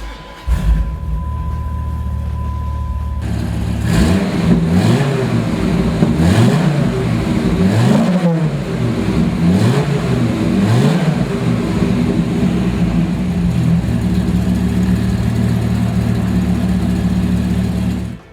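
A 2005 Dodge Viper SRT-10 V10 engine cranks and fires up via start button with a loud bark, blips through several sharp revs, then settles into a steady, throbbing idle nearby.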